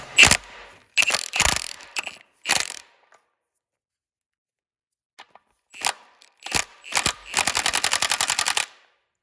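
A big Milwaukee impact gun drives a bolt into aluminum, set on its lowest setting during a GM 2.0/2.2/2.4 timing chain job. Several short sharp hammering bursts come close up, and a final rapid rattling run ends them, with no talking.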